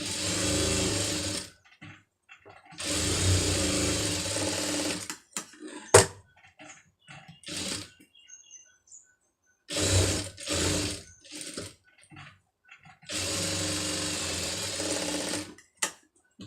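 A sewing machine stitches a puff sleeve in several bursts of steady whirring, loud and close, separated by pauses with small clicks and handling noises.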